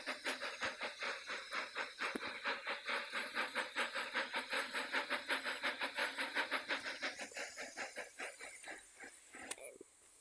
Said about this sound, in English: The mail train has taken to the journey.